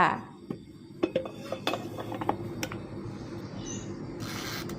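A dish of stuffed sweet peppers is set into an air fryer, with light scattered clinks and taps of dish and metal, followed by a steadier, louder rush near the end.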